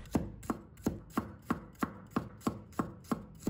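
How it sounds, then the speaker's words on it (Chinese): A kitchen knife slices garlic cloves on a cutting board, giving about ten evenly spaced, crisp taps at a steady, moderate pace, close and fairly quiet. "接下来我们准备1把大蒜，把它切成片，片不需要切得太薄"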